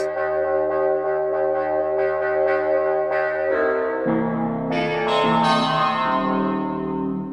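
Korg multi/poly wavetable synthesizer patch playing a sequence of bright, shimmering chorused notes that shift pitch and brighten partway through, heard alone and fairly loud.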